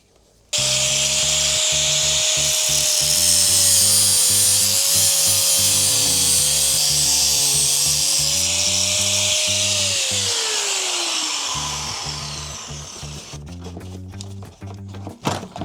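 A high-pitched power tool grinds steadily through a Kawasaki Versys 1000 motorcycle chain, a loud continuous whine with a rattling pulse that slows and fades near the end before stopping, followed by a few clinks.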